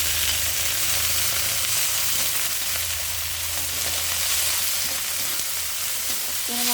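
Carrot frying in olive oil in a pan, a steady close hiss of sizzling oil throughout, with faint stirring clinks near the end.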